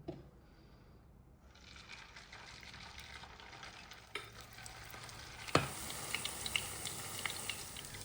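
Liver fritters sizzle and crackle in hot oil in a pan, a steady frying hiss with occasional sharp pops and a clink near the middle.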